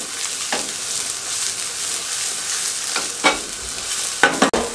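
Carrots, capsicum and round-cut onion frying in oil over a high flame, a continuous sizzle with a few short scraping stirs and a sharp clink near the end.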